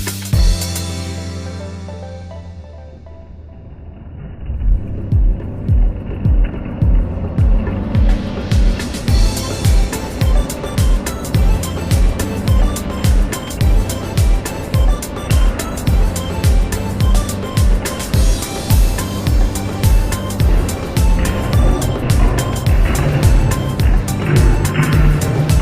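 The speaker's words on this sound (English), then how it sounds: "So the next car for the Skittle challenge is the Nissan GTR 4-wheel drive." Remote control Nissan GTR 4-wheel drive toy car on a Skittle challenge, a quiet start giving way to a loud, close, pulsing motor drone with steady repeating beats that keeps running to the end.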